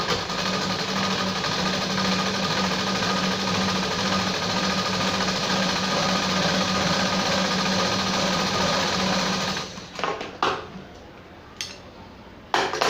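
A sewing machine stitches a small folded edge on a sleeve being added to a readymade dress, running steadily and close for about ten seconds, then stopping, followed by a few handling clicks and knocks.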